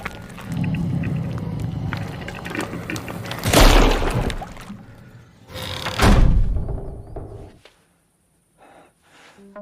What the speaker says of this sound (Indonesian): Hingga tiba-tiba pintu menutup sendiri.